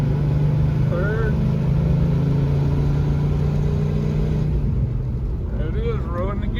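A Plymouth Belvedere with a 440 engine and four-speed manual pulls through the gears onto an interstate, its engine drone steady and prominent from inside the car, with a shift near the end and voices talking over it.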